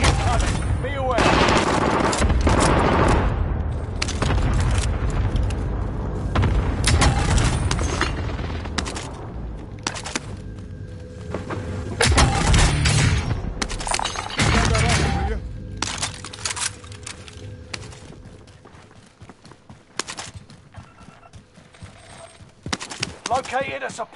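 A precision airstrike in Warzone sets off a run of loud, heavy booming blasts mixed with rattling machine-gun bursts, coming in uneven waves with brief quieter gaps, while voices speak over the battle.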